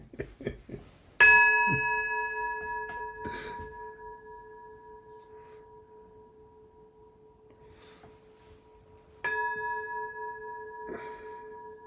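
A temple bell at a Zen gathering is struck twice, each strike ringing out clearly and fading slowly over several seconds, with a few light taps and clicks between.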